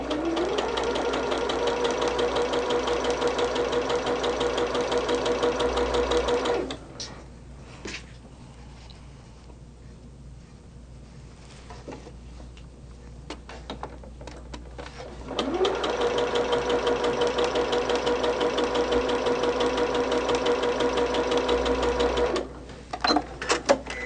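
A sewing machine chain-stitches quilt block pieces in two long steady runs, a close, rapid mechanical whir separated by a quiet pause with light handling noises.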